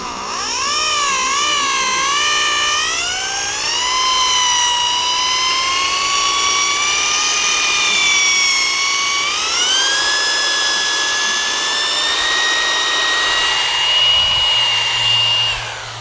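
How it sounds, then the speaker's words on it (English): A machine polisher whirs steadily while buffing stained car exhaust tips, its high whine gliding up and down in pitch as the speed and pressure change, continuous and fairly loud with no talk. "then we're going to bump it up to do all the polishing."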